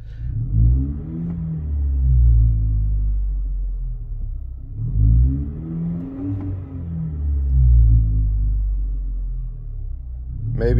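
Deep exhaust rumble from a 2022 Chevy Silverado Custom 2.7 liter four-cylinder turbo with a Flowmaster 40 series muffler, revved in two or three rising-and-falling blips over a steady idle, close and loud with no voices.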